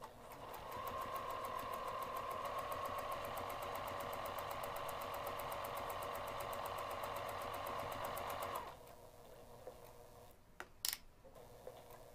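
A sewing machine runs at a steady, even pace for about eight seconds with the stitch length shortened to 1.5 mm, then stops, leaving a few faint clicks and handling sounds.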